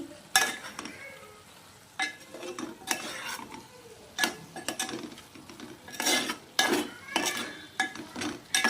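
A spoon stirs garam masala into mushroom biryani in a cooking pot, giving irregular scraping and clinking strokes, near and moderately loud, with a few soft pauses between them.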